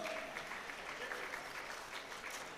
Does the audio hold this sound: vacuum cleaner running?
no